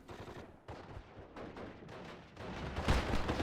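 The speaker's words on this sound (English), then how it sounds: "So mortar fire coming down onto that half track" Mortar barrage in Steel Division: Normandy 44 striking a half-track, a dense run of overlapping explosive thuds and crackling gunfire that swells louder toward the end, with no voices.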